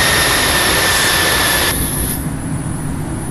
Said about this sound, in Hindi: तो सक्सेसफुली जो मेरा फ़्लाइट है ये टेक ऑफ कर चुका है।